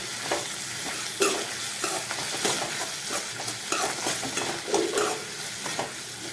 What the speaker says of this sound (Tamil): ராகி மாவு போட்டு கலக்கின்றது